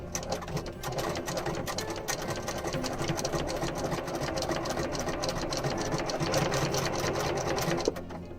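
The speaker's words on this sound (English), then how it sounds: "now I'm gonna do a straight stitch down." A sewing machine running a continuous straight stitch on a plague mask embroidery design, its rapid needle chatter steady and close throughout with no talking.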